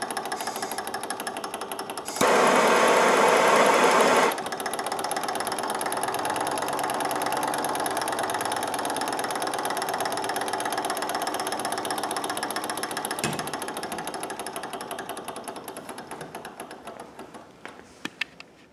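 A small Stirling engine, freshly reheated, runs with a steady mechanical chatter; a louder burst comes early, then the running holds even and gradually fades toward the end.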